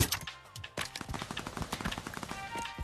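Dense rifle gunfire in the VR shooter game Pavlov, with a rapid string of close, sharp shots and overlapping bursts that go on almost without a break.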